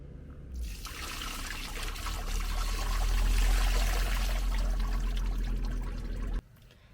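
Waste water from a camping car's tank pours steadily into a roadside drain, a continuous close splashing trickle lasting about six seconds before cutting off abruptly.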